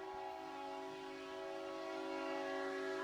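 A train horn blares in one long, steady, loud tone that holds unbroken for the whole moment, with no talk over it.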